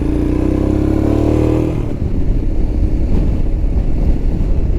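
A Royal Enfield Himalayan motorcycle ridden on Iowa back roads in strong wind, its steady engine drone and heavy wind roar loud and close, with the engine tone dropping away and leaving mostly buffeting wind.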